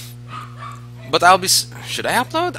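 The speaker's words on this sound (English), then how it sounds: "I'm sorry for the dogs. They're a bit crazy." Dogs bark and yip excitedly in the background indoors while a person talks close by, the barks breaking in several times between spoken phrases.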